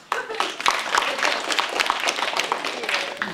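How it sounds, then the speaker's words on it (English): An audience breaks into a round of applause at a youth community presentation, a short burst of scattered clapping that starts abruptly and continues at moderate volume. "All right, round of applause."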